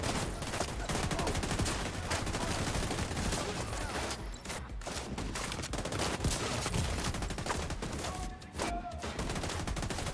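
Sustained turret gunfire in the video game The Division 2, a dense, loud barrage of rapid shots running nearly unbroken throughout, with brief dips and a few tonal game effects layered over the constant firing.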